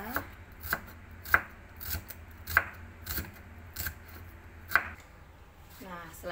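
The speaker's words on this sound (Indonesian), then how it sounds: "terlebih dahulu kita rajang bawang merah yang sudah disiapkan tadi" A knife chops shallots on a board in quick, evenly spaced sharp knocks, close and fairly quiet, with a short rustle at the end.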